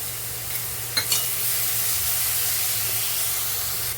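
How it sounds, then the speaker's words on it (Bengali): Ginger-garlic paste sizzles and hisses steadily in hot oil with onions and spices for prawn malai curry, with a couple of sharp stirring scrapes near the start. "এটাও আমি মশলার সঙ্গে ভালোভাবে কষিয়ে নেব পেঁয়াজের সঙ্গে"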